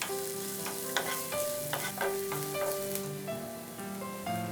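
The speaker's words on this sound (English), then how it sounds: "We'll add finely chopped onions and green chillies. We'll saute on a medium flame for a few seconds." Finely chopped onions and green chillies sauté in oil in a non-stick pan over a medium flame, a steady close sizzle with stirring and spatula scrapes, while background music plays.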